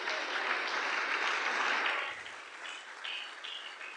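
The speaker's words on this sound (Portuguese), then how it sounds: "Podemos aplaudir pela glória de Deus" Church congregation applauding during a Portuguese-language evangelical sermon, a dense sustained clapping that fades after about two seconds into scattered, lighter claps.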